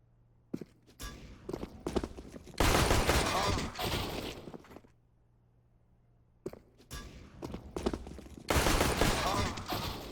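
Rapid bursts of gunfire from a first-person shooter video game, loud dense volleys of shots interspersed with single cracks, with quieter gaps between two sustained firefights.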